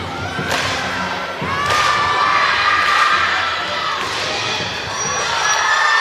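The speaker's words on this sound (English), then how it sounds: "Music's firing the crowd up." A loud arena crowd at a 2024 ACC college gymnastics meet between Clemson and North Carolina cheers and shouts continuously, with thumps and rising swells over music-filled ambience.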